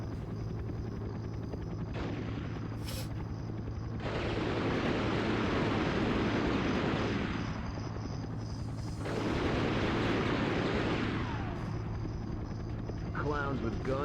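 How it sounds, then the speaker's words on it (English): A helicopter in the video game Dead To Rights throbs with a constant low rotor rumble, swelling into louder noisy blasts twice amid gunfire, with someone talking over the action. "Oh god, and there's a helicopter."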